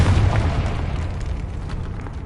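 Confringo blasting spell explosion in a Harry Potter video game: a deep booming blast that hits hard at once, then rumbles and fades over about two seconds.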